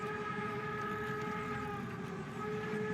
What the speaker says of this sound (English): It's just a train.